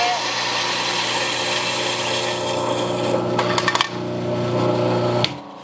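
A coffee grinder grinding beans fine for an AeroPress in a coffee shop, a loud steady motor drone with a crackling rise before it cuts off abruptly near the end.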